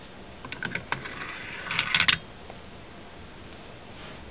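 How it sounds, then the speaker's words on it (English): AK-47 bolt carrier slid back and out of the receiver during a field strip: a few light metallic clicks and scrapes at close range, then a brief cluster of sliding rattles, followed by quiet. "you take and slide the bolt carrier back until it pops out of the two slots in the back of the receiver"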